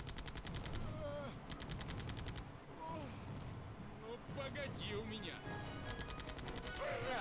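Gunfire in a tank battle video game: rapid machine-gun bursts and shots rattle repeatedly over a constant rumbling backdrop, while players talk over the action.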